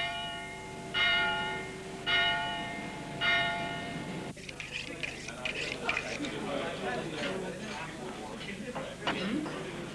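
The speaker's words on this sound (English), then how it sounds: "In Maiden Lane, the lunchtime mass bell tolls." Lunchtime mass bell at a church in Maiden Lane, Covent Garden, London, tolling three clear, resonant strokes with ringing decay, followed by street bustle and chatter.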